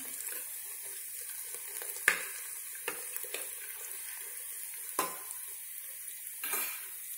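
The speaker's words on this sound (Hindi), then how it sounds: "प्याज को हम हिलाएंगे, प्याज हमारे हल्के हल्के ब्राउन हो चुके हैं।" Lightly browned onions fry quietly in oil with a faint, steady sizzle. A handful of louder scrapes and knocks from stirring stand out against it, and no one speaks.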